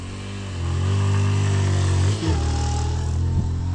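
A motorbike passes along a local road, its engine drone rising loud and steady, dipping briefly as it shifts, then carrying on close by.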